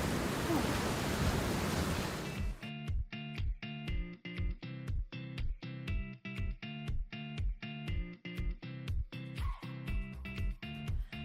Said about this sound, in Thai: ไดเป่าผม Panasonic โดดเด่นด้วยเทคโนโลยีนาโนอีเอกลักษณ์